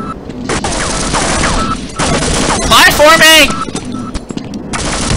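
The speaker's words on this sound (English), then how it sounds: "He had to set off the freaking turrets!" Automated turrets fire in rapid sustained bursts in the first-person shooter Half-Life, a dense clattering barrage that runs nearly throughout, while a player shouts loudly over it.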